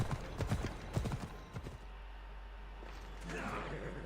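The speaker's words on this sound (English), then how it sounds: "I need to take this horse to either Adonis or to the stable boy" Horse hooves clip-clopping in Assassin's Creed Odyssey, a quick run of close, distinct hoof strikes in the first couple of seconds, then a softer steady ambience with faint footfalls.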